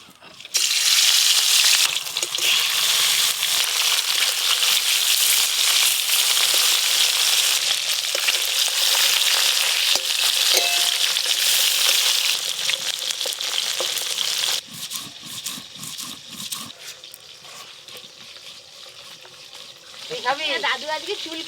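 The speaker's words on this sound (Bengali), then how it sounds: "মাছগুলো ভালো করে ভেজে নেব।" Fish frying in a pan with ginger, cumin and dried chillies, a steady loud sizzle filling most of the stretch, easing toward the end where softer clatter and faint voices come through.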